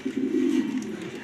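Grizzle racing pigeons coo softly and steadily at close range, a low throaty murmur with no other sounds.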